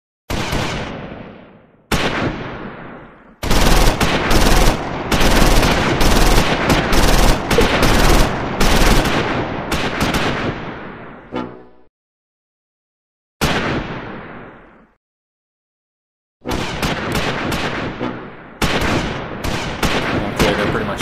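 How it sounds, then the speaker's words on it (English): Sustained volleys of gunfire and automatic bursts in a battle near Udenbreth, loud and close, with long rattling stretches broken by short silences and sharp single reports. "Taking fire!"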